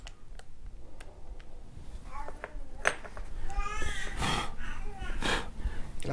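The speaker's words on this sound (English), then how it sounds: "have to excuse the baby noises." A baby's vocal noises indoors in a house, short babbling cries and squeals, fairly close, with faint ticks and room sounds behind.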